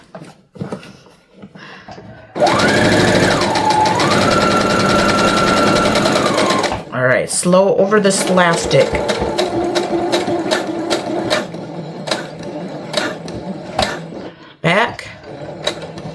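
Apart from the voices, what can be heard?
sewing machine stitching a shopping bag holder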